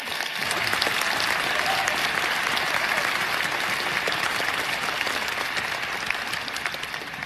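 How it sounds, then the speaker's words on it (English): Audience applause at a student's speech in Boston, a dense, steady wash of many hands clapping that holds at full strength throughout the seven seconds, with no talk over it. "We could probably give them a round of applause right now."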